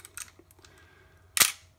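A Nikon FM2/FE2 camera with a sticking shutter gives a single sharp mechanical shutter snap, close and loud, after a few faint clicks of handling.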